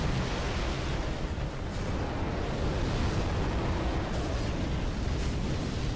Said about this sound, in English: Those head sweeps are typically followed by a fire breath like this